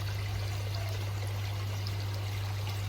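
Water trickles steadily from a pond filter shower turned down low, a constant close, even flow over an underlying low hum of pump or filter equipment, with no voices.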